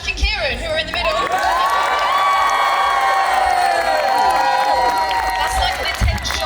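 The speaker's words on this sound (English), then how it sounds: "Can we just also have a round of applause for Jack and Kieran, who are in the middle?" A crowd at a Thorpe Park Fright Nights gathering cheering and whooping loudly, with applause under sustained shouting voices throughout.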